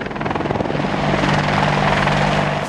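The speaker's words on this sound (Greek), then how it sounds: "Αυτά είναι τα στοιχεία που καθιστούν το Apache Longbow το καλύτερο επιθετικό ελικόπτερο στον κόσμο." Apache Longbow attack helicopter in flight, a loud, close, steady rotor thrum with rapid rhythmic blade pulses over a dense engine whine, continuous and alone.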